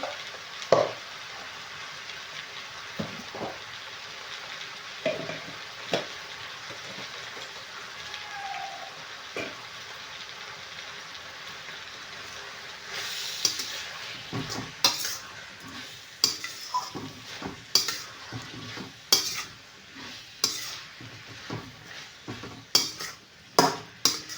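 Mutton masala being stirred in a pan at home, the frying sizzle running throughout under repeated sharp clinks and scrapes of a metal spoon against the pan, growing busier and louder in the second half.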